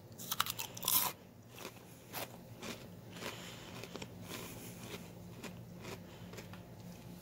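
Cheez-It cheddar cheese crackers crunched close to the mouth, a burst of loud, crisp bites near the start followed by steady softer chewing crackles with no talking.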